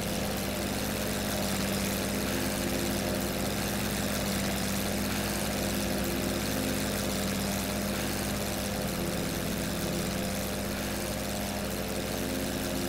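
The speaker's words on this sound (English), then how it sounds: "He's flying as an observer in a German two-seater" WWI German two-seater biplane in flight, its piston engine and propeller droning steadily and loudly throughout with a dense, constant low hum and no breaks.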